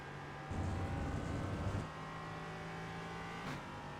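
A Ligier JS P320 LMP3 race car in the iRacing simulator at the Hungaroring accelerates out of a corner, its engine a steady droning whine that swells briefly then settles, heard alone.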